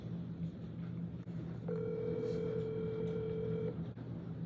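A single long telephone ringback tone sounds on an outgoing call, a steady buzzing purr lasting about two seconds over a low background hum, fairly faint.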